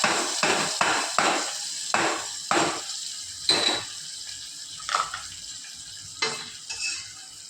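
Hot ghee poured into sweet pongal in a pan, giving a series of short sizzling splashes and spoon stirs, about ten separate bursts close by with quiet gaps between them.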